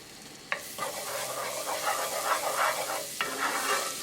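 Ginger, garlic and green chili paste sizzling in melted butter in a pan, a steady close crackle with a couple of sharp stirring clinks, no talk.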